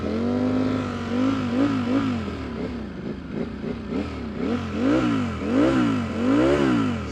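A 2019 Ducati V4S superbike engine revs repeatedly, its pitch rising and falling in quick blips from idle, loud and close, with no talk.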